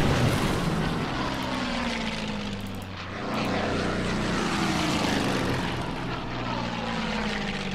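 Propeller-driven bomber aircraft in the Order of Battle wargame, Burma Road campaign, a continuous droning engine hum with slowly shifting pitch as the planes pass, steady and moderately loud, with no talking.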